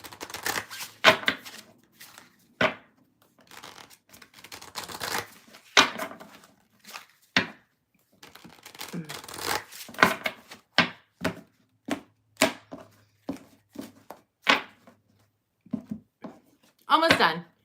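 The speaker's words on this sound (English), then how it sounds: "2 more decks to shuffle" Tarot card decks are shuffled close up in a quiet room, short papery riffles and bursts of card noise separated by brief pauses, repeated across many rounds.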